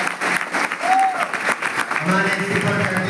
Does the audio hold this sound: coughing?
no